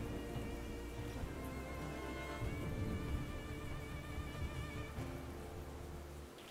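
Rain patters steadily in the fox adventure game Endling: Extinction is Forever, with a low rumble of thunder beneath sustained musical tones, all at a fairly quiet level.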